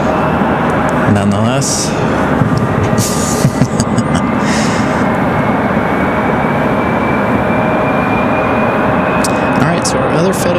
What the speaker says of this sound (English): A little bit of an odd sounding startup for this E175.